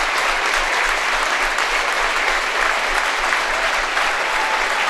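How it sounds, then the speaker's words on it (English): A gym crowd at a girls' high school basketball tournament game gives a standing ovation, loud continuous clapping and cheering that stays steady throughout. "And a standing ovation from the crowd."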